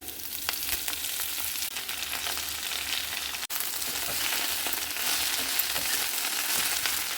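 Fenugreek leaves frying in hot tempering oil with broken green chillies, a steady dense sizzle and crackle running throughout with a brief dip midway, close and fairly loud.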